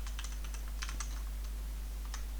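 Quiet computer keyboard typing, a few quick irregular bursts of key clicks close to the microphone with no talk, over a low steady background hum.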